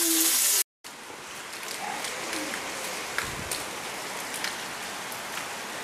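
Steady spring rain falling outdoors in Spain, a dense even patter of drops with a few sharper splashes, close and continuous after a brief cut at the start.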